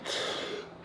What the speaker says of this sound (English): think it's the first time I coughed off the blunt yet